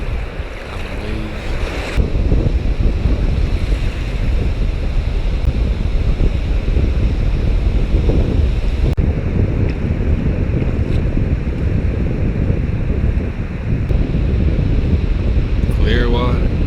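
Surf and small waves wash along a Gulf of Mexico shore under heavy wind buffeting the microphone, a loud continuous roar.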